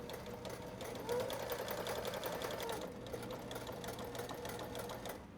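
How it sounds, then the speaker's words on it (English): A sewing machine stitches webbing onto a fabric beach tote, running steadily in a fast, even mechanical chatter, close up and moderately quiet, without pauses or talking. "I stitch from the bottom up to the top"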